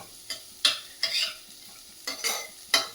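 Food seasoned with pepper powder fries quietly in a pan, with five or six sharp, close spatula scrapes and stirs standing out over a soft sizzle.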